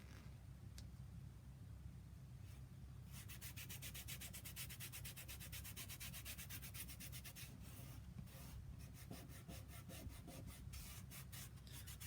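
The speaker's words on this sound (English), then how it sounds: "all I'm doing is rubbing my finger over that silk screen area" A fingertip rubs back and forth over a silk screen area on a surface, giving a steady, close, dry scraping texture that grows denser and more textured partway through, with no talking.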